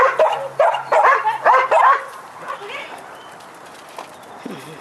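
A neighbour's dog barks several times in a quick burst close by, then the sound fades to quiet room noise with a faint later yelp.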